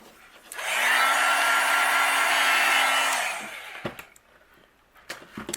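Heat tool drying ink on textured cardstock, switching on into a loud, steady whirring blast for roughly three seconds before shutting off, followed by a few sharp clicks and taps.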